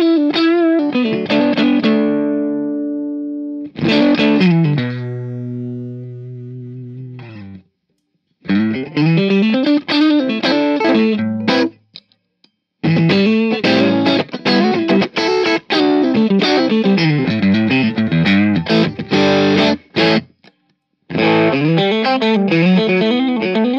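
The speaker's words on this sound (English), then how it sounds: "let's show you what the gain sounds like all the way up on the clean channel" Electric guitar through a Bad Cat Hot Cat 45-watt amp on its clean channel with the gain turned fully up, playing loud, driven phrases and sustained chords with short pauses between bursts, no talking.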